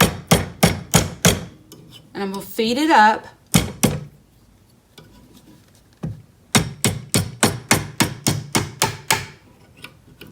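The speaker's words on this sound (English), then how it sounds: "I'm actually going to hammer it this direction" Metal wide-band ring hammered on a conical mandrel set in an anvil: rapid, loud, evenly spaced hammer blows in two bursts, separated by a short pause with a brief spoken phrase and some quieter handling noise.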